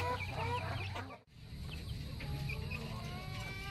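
White Leghorn chicks chirping during a delivery, a busy, continuous chorus of high peeps close by that drops out for an instant before resuming just as thick.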